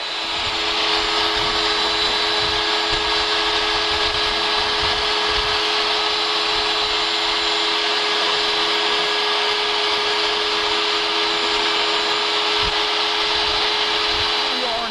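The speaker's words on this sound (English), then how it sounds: "running one of the various machines that we have, machining valves that have come out of the foundry" A machine mills cast valves fresh from the foundry in a production facility at Boyesen, droning in a loud, steady whine with constant tonal hum throughout.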